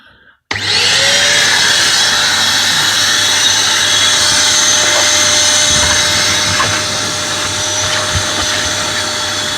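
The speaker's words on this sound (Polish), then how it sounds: "bierzemy się za odkurzanie" A vacuum cleaner switches on abruptly and runs with a loud, steady whine while vacuuming the cabin of a VW Golf 6, continuing close and alone for about nine seconds.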